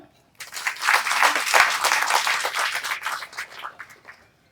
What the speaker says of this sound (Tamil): அதி பயங்கரமான மிகுந்த கரகோஷத்தை கொடுத்ததுக்கு நன்றி